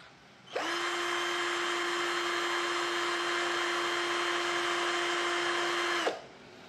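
NRT Pro DC320 cordless drill driver spinning at speed setting 1 in drilling mode, a steady whining motor hum that starts abruptly, holds constant for about five and a half seconds, then stops, close and loud, no talking.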